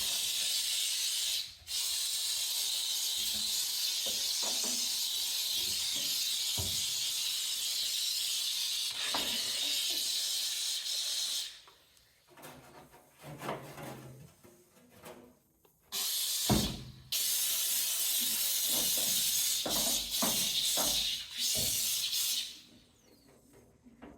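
A steady, loud steam hiss from a handheld steam cleaner cleaning inside a microwave runs in long blasts, cutting off briefly and resuming, with scrubbing and clatter in the pauses.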